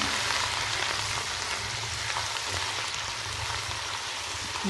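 Onions frying with ginger garlic paste for chana pulao, a loud, steady, close sizzle with a dense crackle that does not let up.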